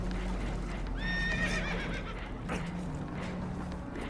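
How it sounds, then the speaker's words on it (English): Spooked horses in Red Dead Redemption 2 give a sharp whinny aboard a damaged boat, followed by hoof clops and creaking, with a steady rumble of water and wind beneath. "Horses are spooked, and we're taking on water."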